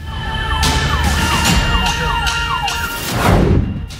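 An ambulance stuck in a traffic jam in Hyderabad wails with a repeating, sweeping siren. The siren sits over a dense bed of engine and street noise and stays loud and near throughout.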